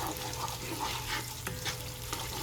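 A legume vegetable stew being stirred in a pot, a steady low bubbling sizzle with soft scraping strokes repeating throughout, close up and unaccompanied by talk.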